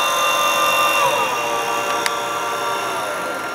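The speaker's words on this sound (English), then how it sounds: "That is actually a 20 volt motor, which I'm running off 12" A 20 volt DC motor runs on 12 volts under IGBT PWM control, giving a steady high-pitched electrical whine with tonal harmonics that drift slightly in pitch, close and continuous throughout.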